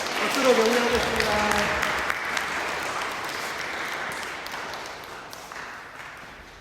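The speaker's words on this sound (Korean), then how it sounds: "박수로 격려하겠습니다." Korean church congregation at a Sunday service applauding an elder receiving a completion certificate, a brief swell of clapping that fades gradually, with a voice speaking at the start.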